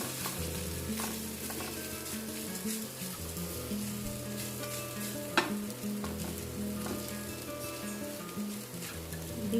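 Coconut and cucumber poha being stirred in a pan over low to medium heat, producing a continuous soft sizzle with steady scraping of the spoon, close and even, no talking.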